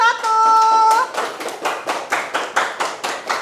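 Classroom clapping for a group of students called to the front, a run of about ten brisk, evenly spaced claps following a sustained tone, close and fairly loud.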